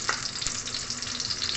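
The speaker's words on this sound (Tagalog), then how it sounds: "Igisa muna natin yung sibuyas." Sliced onions sautéing in hot oil in a pan for Filipino chicken tinola, a steady loud close sizzle and crackle with a faint stir near the start, no voices.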